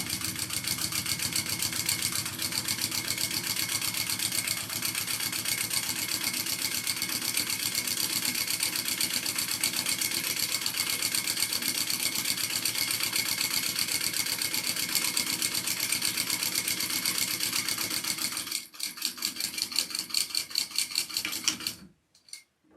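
A sewing machine stitches a bag handle with poly thread and a size 18 needle, a loud rapid mechanical whir running continuously before slowing and stopping near the end.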